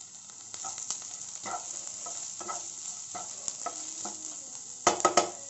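A potato mixture with coriander fries in a pan, a soft sizzle under steady stirring and scraping, with a few sharper metallic taps of the spoon near the end.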